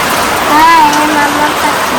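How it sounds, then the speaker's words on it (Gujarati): Heavy rain pouring down outside, a loud, dense, continuous hiss of rainfall, with a brief tonal voice-like sound rising and falling over it partway through. "બહાર તો ધોધમાર વરસાદ છે"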